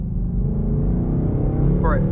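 A car drives close behind a Mustang GT on the road, its steady engine rumble loud and continuous, with a voice speaking over it.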